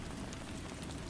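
Steady rain patters densely and evenly, a soft continuous hiss of falling drops with no voice or other sound.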